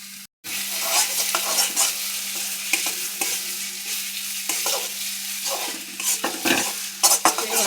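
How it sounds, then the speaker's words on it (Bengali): Spice paste with salt and a little turmeric stirred and fried in a pan over gas, a steady close sizzle with repeated scraping strokes of a spoon against the pan, no talking. "ভাজা ভাজা করে নিতে হবে।"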